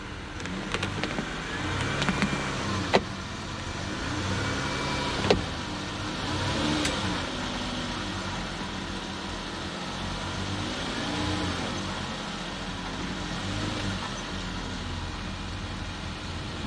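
Dodge Caravan minivan engine running steadily close by with light revving as the van creeps up onto ramps for an oil change, a few sharp clicks and knocks near the start.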